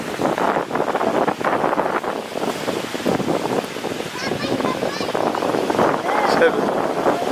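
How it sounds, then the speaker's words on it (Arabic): Wind and waves at the seaside, a steady broadband rush of breeze and surf that stays loud throughout, with people talking over it. "هاي اجواء البحر"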